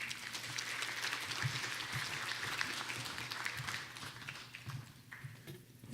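A Louisiana smart growth summit audience gives the panel guests sustained applause, a thick, continuous patter of many hands at moderate distance that thins a little near the end.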